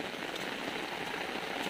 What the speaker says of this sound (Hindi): अभी तो बारिश बहुत बढ़ गया